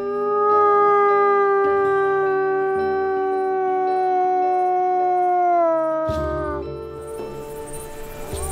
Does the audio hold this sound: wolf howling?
yes